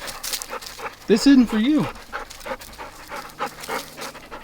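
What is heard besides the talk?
dogs panting and whimpering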